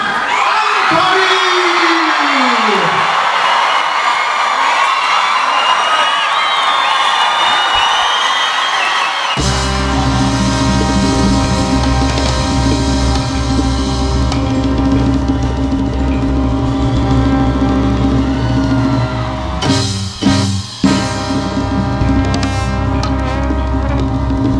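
A concert crowd at a salsa show cheers and whoops loudly. A full band then comes in, and the cheering carries on beneath the music.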